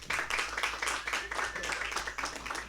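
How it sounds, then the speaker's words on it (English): Faint studio audience applause honoring a Charlotte journalist, a steady wash of claps with a faint tonal line running through it. "Let's give Mr. Ken Koontz a round of applause."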